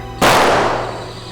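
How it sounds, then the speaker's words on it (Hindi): A single sharp gunshot fired in a tense crime-drama confrontation, a loud sudden blast at close range that rings out and decays slowly over about a second, with no talk over it. "गोली की आवाज है।"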